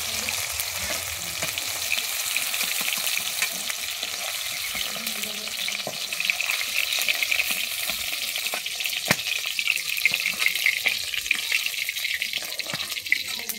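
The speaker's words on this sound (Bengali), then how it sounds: "আমি ওই ভেজে নিচ্ছি।" Frying in oil on a home stove for an egg do peyaja, a steady soft sizzle with scattered stirring clicks and sharp clinks, running alongside a watery hiss.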